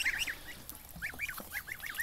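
Several farmyard ducks, including drakes of the common mallard type, call in a run of repeated nasal honking notes, moderately near, over a steady background hiss.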